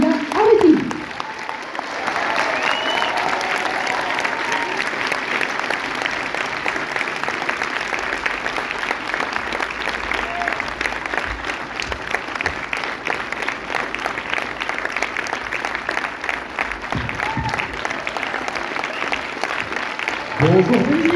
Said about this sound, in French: J'aimerais que vous fassiez un tonnerre d'applaudissements s'il vous plaît pour l'équipe du film